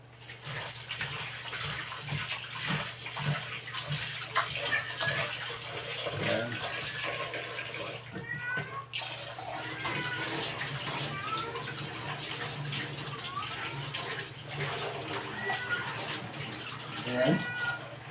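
Raw chicken skin being washed under running tap water in a home kitchen, a steady gushing flow with occasional splashes, heard alone at moderate level with a low constant hum beneath.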